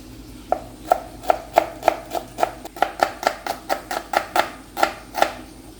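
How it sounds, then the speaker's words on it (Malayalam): A knife chops onions on a board in a Kerala kitchen, a steady run of about a dozen crisp, close taps at a brisk, slightly uneven rhythm. "അങ്ങനെ സവാള അരിഞ്ഞു കഴിഞ്ഞിരിക്കുകയാണ്."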